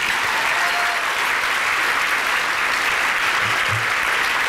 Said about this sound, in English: Please join me in giving a round of applause in Kevin's honor.